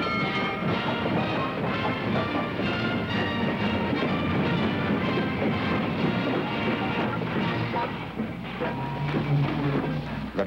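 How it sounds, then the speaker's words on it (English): A train pulls into a station, rumbling and clattering steadily, with rhythmic clickety-clack of rail cars and a loud continuous mechanical roar throughout. "Train pulled in."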